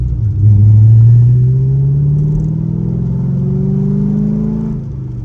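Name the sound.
Chevrolet C6 Corvette driving in the rain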